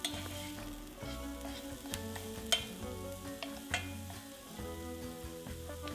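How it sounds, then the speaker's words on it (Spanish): Tender garlic and ginger with a pinch of salt sauté in a pan, a steady close sizzle broken by periodic stirring scrapes and small pops. "Echamos un pellizco de sal y salteamos durante un par de minutos hasta que todo empiece a pocharse."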